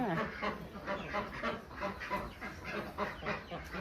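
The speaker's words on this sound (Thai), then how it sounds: "เช้านี้พาทุกท่านมาดูการออกไข่ของเป็ด คอกนี้นะคะ" Ducks in a crowded egg-laying pen quack repeatedly in an overlapping, rhythmic chorus, moderately near and fairly quiet, with a faint voice mixed in.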